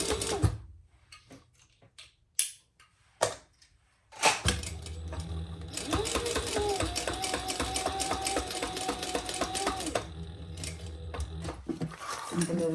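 Domestic sewing machine stitching a crossbody bag gusset near a D-ring, with a few clicks and knocks before a steady whirring run of stitching that stops briefly and resumes near the end.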